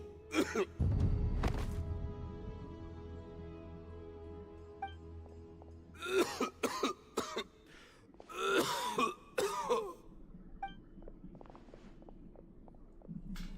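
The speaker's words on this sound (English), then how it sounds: "Why is he coughing so much?" A male character in the video game Genshin Impact coughs and clears his throat in several rough, raspy bursts, spaced out with quiet pauses between, close and fairly loud.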